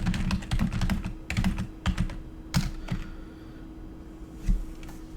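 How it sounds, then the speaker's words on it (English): Fast clusters of keystrokes on a computer keyboard sound close by, then thin out to a few scattered taps over a low constant hum, with no voices. "Sorry for the typing in the background, guys"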